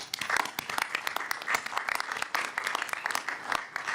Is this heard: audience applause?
yes